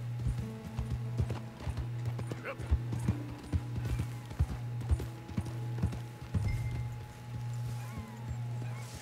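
Hooves clip-clop in a quick, steady rhythm as a horse runs in the Red Dead Redemption 2 video game, fairly faint and close, with a player speaking over it.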